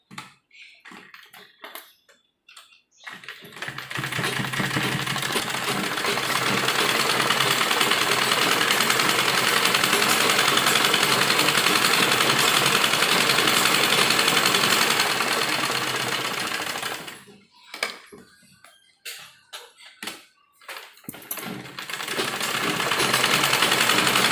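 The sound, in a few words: sewing machine stitching a sleeve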